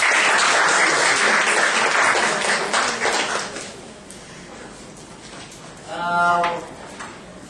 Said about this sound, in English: Please give applause to Professor.